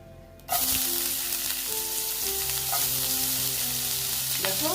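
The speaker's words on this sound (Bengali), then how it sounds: "এবার আমি দিয়ে দিচ্ছি পেঁয়াজ" Chopped onion dropped into hot oil with tempering spices bursts into a sudden loud sizzle that carries on steadily, with occasional stirring clinks and no talk.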